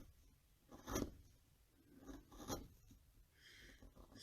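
A wood-carving chisel cuts into wood while shaping a dragon, giving faint scraping and slicing strokes with two stronger cuts about a second and a half apart, quiet and close.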